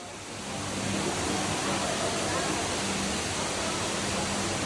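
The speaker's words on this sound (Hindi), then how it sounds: "बहुत ऊंचा सा वाटरफॉल है ये" Tall artificial indoor waterfall at Gardens by the Bay in Singapore, a dense continuous rushing roar of falling water that swells in and holds steady, with faint voices beneath.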